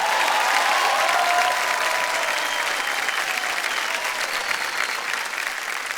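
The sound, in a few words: studio audience applause on a quiz show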